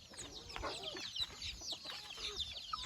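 Free-range country chickens cluck and chatter steadily while pecking at drumstick (moringa) leaves, several birds close by with overlapping short calls and no talking.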